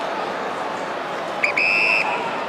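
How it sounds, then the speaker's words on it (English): An umpire's whistle at an Australian football match between St Kilda and GWS gives a short faltering chirp, then a steady shrill blast of about half a second, over the constant roar of the stadium crowd. "that umpire having trouble with his whistle"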